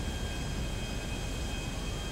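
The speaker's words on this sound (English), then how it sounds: "Everybody's in the jet." A jet aircraft flying in Grand Theft Auto V, a steady broadband engine roar with a thin high whine, constant and close throughout, with no talk.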